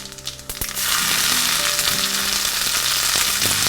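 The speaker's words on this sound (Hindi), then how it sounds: "घी के अंदर गया जीरा" Cumin seeds dropped into hot ghee in a pan: a brief clatter, then a loud, steady, close sizzle and crackle that holds evenly to the end, with no voices.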